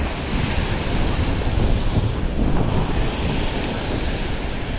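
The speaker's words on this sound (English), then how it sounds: "the waves just crash on both sides, and they're just swinging by the sand here" Lake waves break on a sandy shore on both sides, a continuous loud wash of surf mixed with buffeting wind against the microphone, with no voices.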